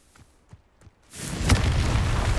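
A Confringo spell blast in Hogwarts Legacy: a few soft taps give way to a sudden roaring burst that swells and sustains, loud and close, without speech.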